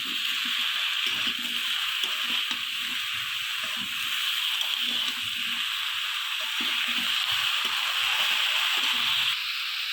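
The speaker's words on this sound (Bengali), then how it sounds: "সুন্দর করে সবজিটাকে একটু ভাজা ভাজা করে নেব" Cauliflower and eggplant pieces fry in hot oil in a pan with salt, giving a steady loud sizzle and hiss throughout, with soft scraping stirs underneath and no talking.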